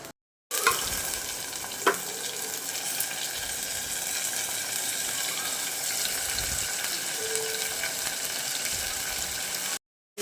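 Onion, garlic and curry leaves frying in a pan for a fish curry, a steady close sizzle with a few stirring clinks.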